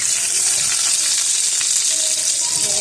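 Loud, steady sizzling of chapli kebabs frying in oil in a pan, a continuous dense hiss with faint crackles throughout and no talking.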